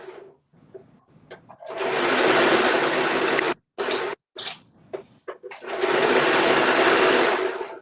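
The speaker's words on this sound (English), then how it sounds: "I'm just hemming my pants now." Sewing machine hemming a pair of pants, running in two long loud bursts of steady whirring stitching with short stops and small clicks and handling noises between them.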